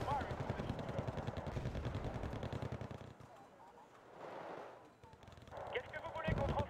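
Shotguns fire in a video game as rapid, dense volleys of blasts, then a short lull and another burst. The shots are moderately loud and layered with other game noise.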